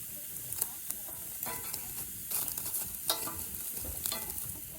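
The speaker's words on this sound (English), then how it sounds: "Cooking some potatoes" Potatoes frying in a pan give off a steady, moderately quiet sizzle, broken by occasional scraping stirs and light clinks, with no voices.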